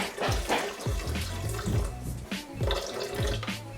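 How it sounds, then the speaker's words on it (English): Water that was used to boil chiles pours into a blender for red enchilada sauce, a steady splashing, gurgling stream with rhythmic pulses, close and fairly loud. "So here I'm just going to add more water, the same water that we boiled our chiles"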